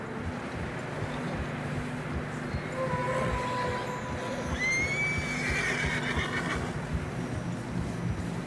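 Horses in Red Dead Redemption 2 whinny loudly over a low, steady rumble on a narrow snowy path, a high neigh rising and falling, followed by another snorting call nearby.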